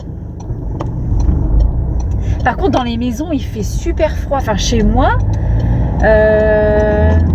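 Inside a moving car: a steady low rumble of road and engine noise fills the cabin while someone talks throughout, and a clear tonal chime sounds near the end.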